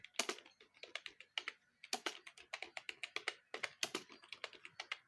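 Fingers type on a computer keyboard in quick, uneven bursts of crisp keystrokes, close and clear, with short pauses between runs.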